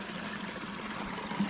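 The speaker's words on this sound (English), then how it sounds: "Teeny tiny baby waterfall." A tiny waterfall along a hiking trail near Garden of the Gods trickles and splashes in a soft, continuous stream, heard close up and fairly quiet, with no voices.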